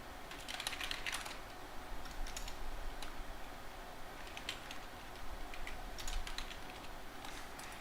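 Notes are typed on a computer keyboard in quick irregular bursts of soft clicking keys, close and fairly quiet over a steady low hum, with no talking.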